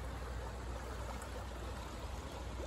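Water in a slippery forest creek rushes in a constant low, broad murmur, close and unbroken, with nothing else rising above the flow.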